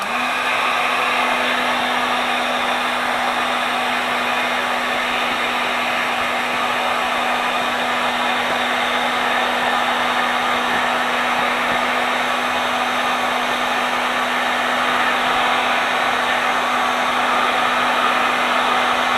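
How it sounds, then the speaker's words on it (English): A heat gun runs continuously as it warms up, a steady close blowing roar with a constant motor hum and no change in level, no voices present. "First, I need to warm up the heat gun and put on my gloves."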